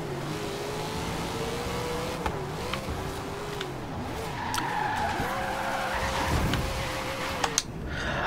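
Car in the Forza Horizon 3 racing game, a custom-built muscle car, skids and revs continuously with squealing tires and a roaring engine, loud and close throughout, with brief impact-like thuds near the end.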